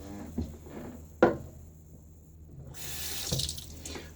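Water runs from a bathroom tap into a sink during a shave, opening with a few splashes and a clunk, then a rising steady rush of flowing water toward the end.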